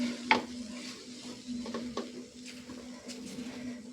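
A spoon works through 500 grams of semolina in a pan while mixing it into dough for bhapa puli pitha, giving soft, continuous scraping and rubbing close up over a faint steady hum.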